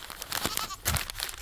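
Goats on a small farm with poultry bleat and nibble near someone holding mail, with a few short bleats, crinkling and soft rustling close by, and no speech.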